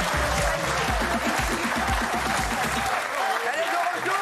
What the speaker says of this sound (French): Ségolène Royal est avec nous. Applaudissements.